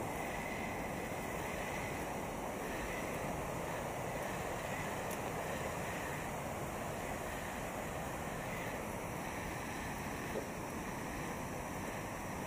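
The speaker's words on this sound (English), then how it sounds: "The waterfall?" Steady broadband rush of a waterfall, constant and fairly loud with some wind noise on the microphone, no voices.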